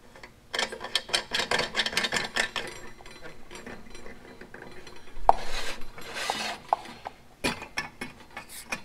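Metal cap of a Coleman fuel can for a Coleman Dual Fuel 533 camping stove clatters and scrapes as it is screwed back on, a close run of rapid ratcheting clicks and rattles followed by a few separate knocks.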